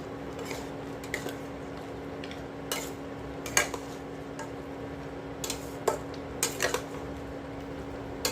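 Fried lentil dumplings, bitter gourd and eggplant go into a wok while shukto is cooked. Scattered clinks and scrapes of utensil against metal stand out against a quiet background, with no talk.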